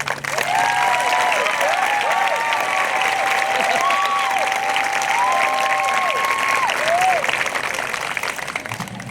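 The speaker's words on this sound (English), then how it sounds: "clap it up one more time for our speakers" Graduation audience for the class of 2020 applauds its speakers, dense continuous clapping and crowd noise held loud and steady, with a melodic tone sounding over it.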